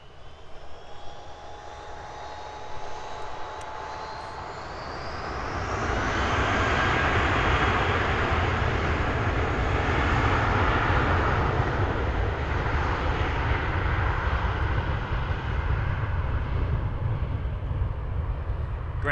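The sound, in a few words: Air New Zealand Airbus A320 jet departing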